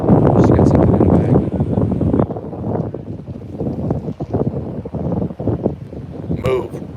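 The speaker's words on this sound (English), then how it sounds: "Too much noise. It's really windy." Strong gusts buffet an outdoor microphone in a continuous heavy rumbling roar that swells and dips, with brief faint background sounds.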